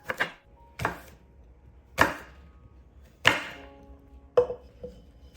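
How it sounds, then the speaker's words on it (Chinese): A knife chops a fresh, washed apple into small pieces on a board: five or six crisp, distinct cuts spaced roughly a second apart, close and clear with quiet between strokes. "接着把一个新鲜的苹果洗净切成小块"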